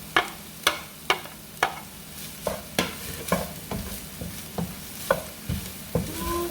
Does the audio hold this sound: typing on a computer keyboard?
no